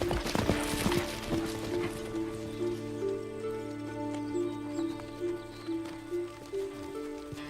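A racehorse's hooves clip-clop steadily at a walk on hard ground, near and fairly clear, with a sustained musical drone running underneath and no talk.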